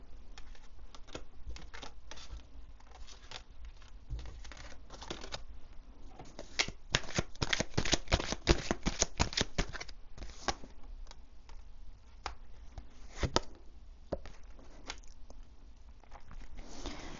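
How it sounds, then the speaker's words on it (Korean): Tarot cards are shuffled by hand in a quiet room, making soft papery riffles and pattering bursts that grow busier and louder in the middle before settling back to light handling. No one speaks. "그럼 나머지 4주 카드로 곧 다가올 새로운 인연에 만날 시기나 혹은 조언의 카드로 한번 2장만 더 뽑아보도록 하겠습니다"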